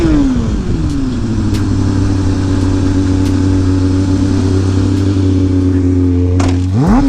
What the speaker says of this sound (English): Nothing like coming in hot and rolling a stoppie.